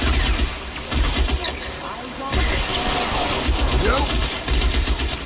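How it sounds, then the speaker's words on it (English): Dense automatic gunfire from the crime video game L.A. Noire, bursts of rapid shots with engine rumble beneath, continuous and loud, while someone speaks over it. "We're taking some serious fire here."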